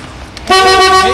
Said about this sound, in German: Die missbräuchliche Benutzung der Hupe gilt als nach den Umständen vermeidbare Belästigung